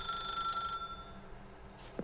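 A telephone rings in The Stanley Parable video game, a faint, steady electronic bell tone that cuts off partway through, leaving a quiet room hum.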